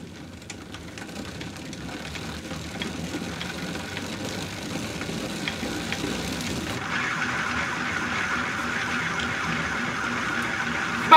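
A homemade flywheel generator spins up with a steady mechanical whir and faint ratcheting clicks, growing gradually louder and brighter over several seconds until it holds a higher, even hum near the end.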